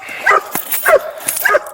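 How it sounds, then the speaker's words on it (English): A police dog barks three times at an arrest scene, loud and close, each bark sharp and evenly spaced about half a second apart. "Told you the dog was coming"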